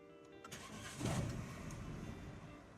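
A car engine cranks and catches at a distance, rising briefly before settling into a quiet idle.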